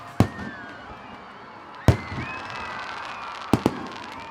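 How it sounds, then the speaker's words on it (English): Fireworks at the Mysore Dasara festival, with sharp, loud bursts at spaced intervals, the last two close together, each followed by crackling and whistling trails fading over a quieter background. "Fireworks."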